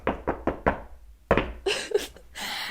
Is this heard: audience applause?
no